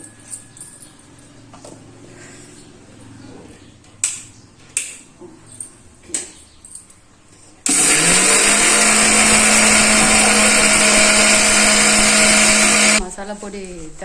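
Several short knocks and handling clatters come first, then a mixer grinder roars up loud and steady for about five seconds while it grinds roasted spices for chicken pickle. It stops abruptly, and faint background noise follows.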